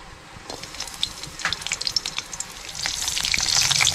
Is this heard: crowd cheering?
no